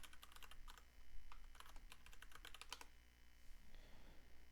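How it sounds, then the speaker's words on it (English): Keys clatter on a computer keyboard as administrator credentials are typed in, a quick run of close, crisp clicks for about three seconds before the tapping stops and a quieter room hum remains. "I'm going to type in my credentials."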